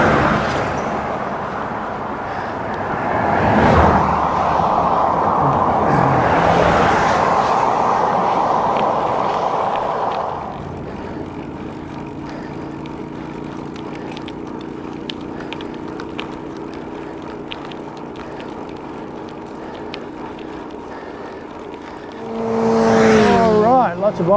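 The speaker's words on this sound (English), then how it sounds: "lots of bikes, lots of cars going out to this event" Cars heading to a country event pass a cyclist riding a rural road in Western Australia's wheatbelt, swelling into two close roaring passes early on, followed by steady wind and road noise and another vehicle approaching near the end.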